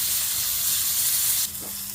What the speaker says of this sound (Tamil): இந்த வெங்காயம் ப்ரௌன் ஆகிற வரைக்கும் வதக்கணும்.